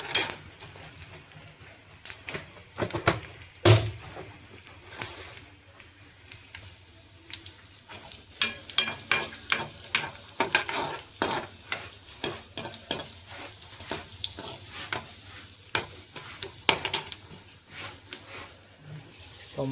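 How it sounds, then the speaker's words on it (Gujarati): Chillies, peanuts and sesame seeds roasting in a pan give a soft sizzle under repeated scraping and clattering of a spoon stirring, irregular taps and rustles close by throughout. "તો મરચાં શિંગદાણા શેકાઈ ગયા છે."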